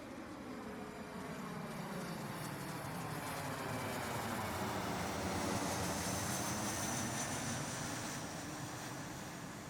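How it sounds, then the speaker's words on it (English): An airplane passes overhead from front to back, a broad distant roar that swells gently and fades, heard alone with no voices. "Here's the sound of a plane flying overhead from front to back."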